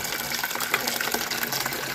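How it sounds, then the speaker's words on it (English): Hot soapy water poured into a casserole dish, a steady close gushing splash that fills the moment continuously without pause. "I'm going to just put some hot soapy water in here"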